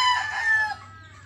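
A rooster crows once, loud and close, the call trailing off after under a second, with a low steady hum beneath.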